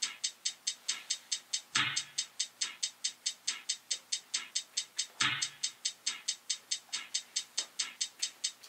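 Fast, even closed hi-hat ticks run throughout, with two longer, washier open hi-hat hits standing out.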